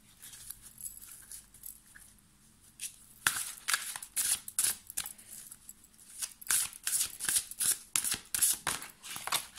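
Oracle cards are shuffled close by for a reading, starting with faint fumbling and then a run of quick, papery riffling bursts in an irregular rhythm, with no talk.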